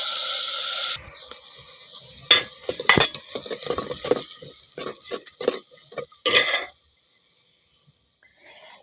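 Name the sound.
tamarind juice being added and stirred in a pot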